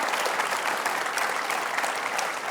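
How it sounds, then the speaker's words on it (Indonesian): Audience applause at a motivational seminar, a steady, even patter of many hands clapping from a sizeable crowd, moderately loud and continuous with no talk over it. "Tepuk tangan dulu dong buat Pak Yudi dan juga buat Ibu Susan."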